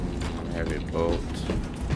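Heavy bolter munitions are loaded in Warhammer Space Marine 2, a busy mechanical ratcheting and clanking of metal parts lasting about two seconds, fairly loud, with voices mixed in.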